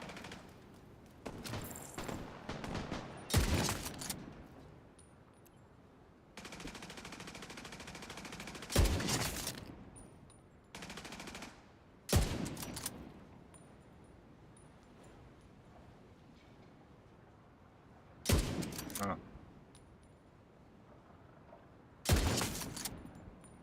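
Video game gunfire comes in several separate loud bursts of rapid shots, spaced a few seconds apart, with quieter game ambience in between.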